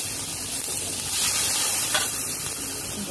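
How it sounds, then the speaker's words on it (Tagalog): Simmering lamb curry bubbles and sizzles in a continuous, dense hiss up close, swelling briefly midway as it is stirred, with no talking. "haluin lang ang haluin at hayaan lang kumulo"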